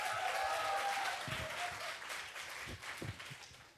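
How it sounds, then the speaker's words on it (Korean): An audience at a school event applauds steadily, welcoming a guest; the clapping is dense and moderately distant, with scattered cheers. "큰 박수 부탁드립니다."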